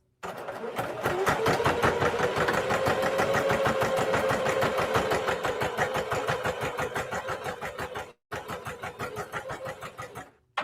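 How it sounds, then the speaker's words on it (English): A sewing machine stitches a fabric handbag, a loud, close, rapid mechanical whir of needle strokes that runs steadily for about eight seconds, stops briefly, then resumes for a few more seconds, with no talk. "I'm going to start sewing about a half of an inch away from my closure"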